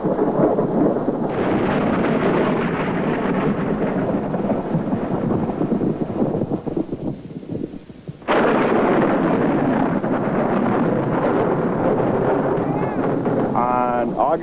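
Thunder from a lightning strike rolls as a loud, sustained rumble, dips briefly near the eight-second mark, then surges back into a heavy, continuous roar.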